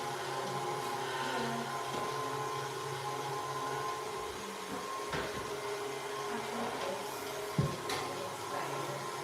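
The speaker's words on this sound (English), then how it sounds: "So the mixer is working now." An electric stand mixer runs steadily at a kitchen counter while cake buttercream is prepared, giving a continuous close whirring motor drone with a brief knock near the end and no talk.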